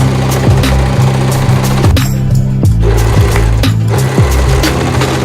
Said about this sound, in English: I'm just going to overlock all these raw edges